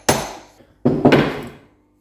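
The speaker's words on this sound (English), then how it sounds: "if you don't feel comfortable using the hammer with the drift" A hammer strikes a metal drift to tap out a king pin, two loud, close blows about three quarters of a second apart, the second followed by a quick extra knock, each ringing briefly before fading.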